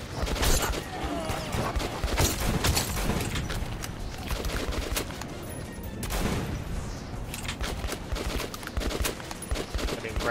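Dense, continuous gunfire from the video game Metro 2033 Redux, with shotgun blasts amid rapid overlapping shots, loud and sustained across the whole stretch, no talking.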